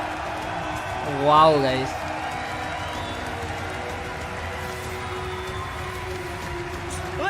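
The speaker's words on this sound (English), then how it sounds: "Ladies and gentlemen, give it up for your major champion" A large esports arena crowd at the ESL One Stockholm 2022 Dota 2 grand final applauds and cheers steadily for the major champion, a continuous wash of clapping under a loud announcer's voice and a brief exclamation.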